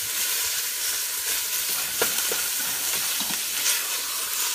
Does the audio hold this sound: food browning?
yes